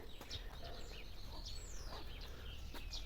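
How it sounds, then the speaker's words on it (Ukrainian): Birds sing in a garden with faint, scattered chirps and short whistled calls over a low background hum, distant and quiet. "Пташечки то не так співають, як завжди"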